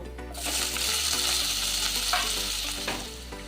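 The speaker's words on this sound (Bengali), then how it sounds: "একটু ছোট ছোট করে আলু কেটে রেখেছি, এই আলুটা" Diced potatoes sizzle and fry steadily in oil in a pan on a home stove, a continuous close crackle with light stirring scrapes and no talking.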